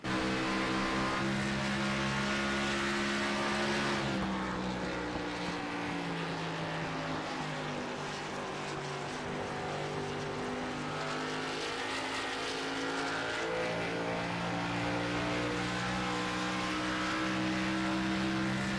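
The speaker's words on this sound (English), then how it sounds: "You can just hear the tires crying for help." Race cars roar through the turns at Homestead-Miami Speedway, loud engine drone rising and falling steadily with strained tire noise mixed in as the cars fight for grip, no voices over it.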